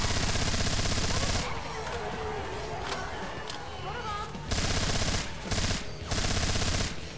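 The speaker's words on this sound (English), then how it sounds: "Heavy machine gun." Heavy machine gun fire in the zombie shooter Left 4 Dead 2 on a custom lab campaign, loud sustained bursts with brief pauses, dense rapid shots dominating the scene.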